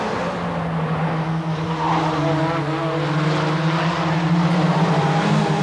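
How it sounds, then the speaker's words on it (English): Touring race cars including a Ford Sierra racing in the 1988 British Touring Car Championship, a loud continuous engine drone with steady tonal whine, close and sustained throughout. "Steve Soper in the red and black Ford Sierra, Chris Hodgetts behind him, then Andy Rouse"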